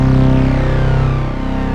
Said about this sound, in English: which is, it's still very thick sounding, but with the more modest chorus flanger effect.